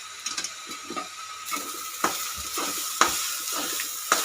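A spatula scrapes and stirs egg fried rice in a hot pan, seasoned with salt and a pinch of Ajinomoto, giving soft sizzling under periodic sharp metallic clinks against the pan, close and fairly quiet.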